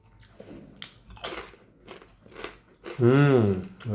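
Crunchy snack, chakli, being bitten and chewed in a few close crisp bursts at home while waiting for a meal, followed by a voice talking.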